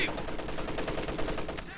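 An MG34 machine gun in Company of Heroes 2 fires in rapid, evenly spaced bursts, a steady rattling stream of shots with battle noise around it.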